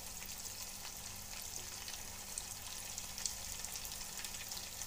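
Chicken frying in a kadai pan gives a faint, continuous sizzle with scattered crackles and pops throughout, quiet and unbroken, with no talking.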